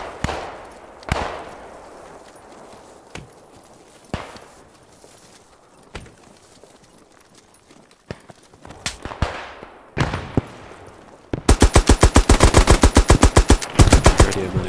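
Machine gun fire from a hill in a WW2 shooter game: scattered single distant shots and echoing booms for the first eleven seconds, then a loud sustained rapid burst of automatic fire to the end.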